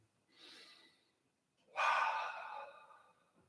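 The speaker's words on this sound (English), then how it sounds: "One more time, breathe in." A deep breath taken during a chi kung exercise, one soft faint inhale followed by a fuller, louder breath, close and alone.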